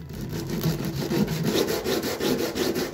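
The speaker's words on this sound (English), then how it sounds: "Let's sand them to make the geometry more precise." Sandpaper rubs steadily back and forth across the edges of mirror faces taped together for an infinity mirror, a close, continuous rasping scrape with a regular stroke rhythm and no talking.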